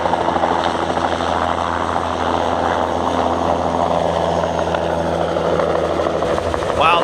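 Helicopter rotor and engine drone near the Iguazu Falls visitor center, steady and fairly loud throughout, with a busy outdoor background.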